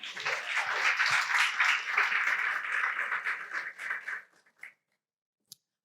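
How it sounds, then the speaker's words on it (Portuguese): Church congregation applauding during a worship service, a dense steady patter of clapping for about four seconds that tapers off into silence with one last stray clap. "Você pode aplaudir o Senhor?"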